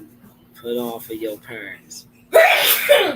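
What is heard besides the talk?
sneeze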